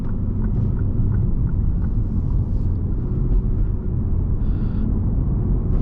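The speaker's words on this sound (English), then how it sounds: "And I love the sound of this 5-liter V8" A 2016 Lexus GS F sedan's 5-liter V8 rumbles steadily from inside the cabin while commuting, a loud continuous low drone with no talk over it.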